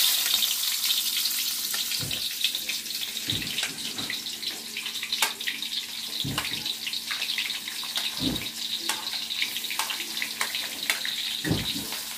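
Shallots and garlic frying in a pan, a steady bright sizzle with occasional scraping knocks from stirring, moderately quiet and continuous, no talking.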